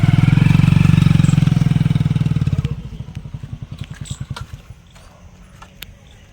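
A motorcycle engine runs steadily and loud at close range, then its throb drops to a quicker, softer idle that pulses on before fading into the background.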